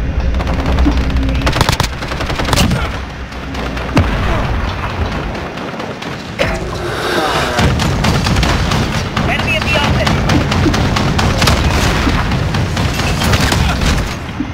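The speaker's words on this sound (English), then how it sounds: "Throwing Molotov!" Dense, loud gunfire fills a close-quarters match on the Shipment map in the video game Modern Warfare, with rapid automatic bursts and heavy booming hits running almost without pause.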